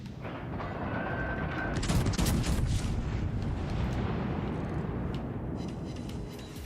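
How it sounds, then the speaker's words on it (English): A warship's full broadside in World of Warships erupts as a heavy rolling boom of gunfire, peaking early and then rumbling and fading over several seconds, loud and close. "He's gotten off full broadside, unfortunately"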